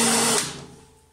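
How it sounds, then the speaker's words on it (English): A power screwdriver whirs briefly while raising the bed of a thickness planer in a woodworking shop, with a steady high-pitched motor tone that winds down and fades over about a second. "So here I use the screwdriver to raise the planer bed."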